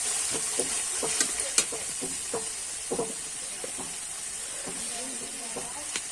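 Dry masala paste fries in oil in a pan for dudh palak, a steady sizzling hiss broken by repeated scraping stirs and clinks, close by with no talk.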